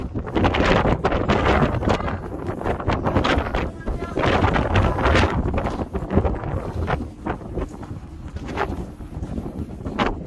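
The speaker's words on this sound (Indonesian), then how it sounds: "Nah ini anginnya cukup kencang sekali." Strong wind buffets the microphone on the open deck of the Spectrum of the Seas cruise ship, a loud continuous roar with gusty rustling that holds steady throughout.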